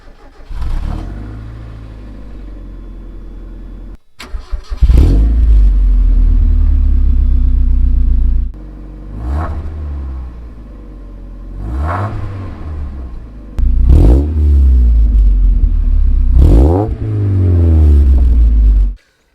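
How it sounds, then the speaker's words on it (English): A Chevrolet Cobalt fitted with a new exhaust starts up and then revs repeatedly. Each throttle blip brings a loud, deep rumble that swells sharply and falls away, and a steady idle drone carries on between the revs. "That is literally just the exhaust noise, a quick drive, and that's it."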